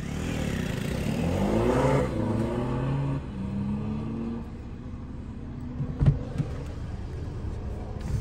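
A motorcycle at a drag race revs loudly and close by. The engine climbs in pitch, eases back to a steadier drone, and ends with a brief clatter near the close.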